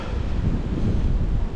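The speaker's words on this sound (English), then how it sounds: "This is so windy and cold." Strong cold wind buffeting the microphone at the waterside on a fishing outing, a steady low roaring rumble with gusty fluctuations and no talk.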